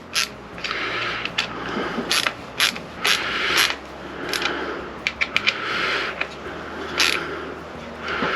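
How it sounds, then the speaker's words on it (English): Screws being driven down on the cord clamp of a smart plug connector during rewiring aboard a Ranger Tug R27 boat, heard as a run of close ratcheting clicks and creaks in uneven bursts with no voices. "Screw these two down equally."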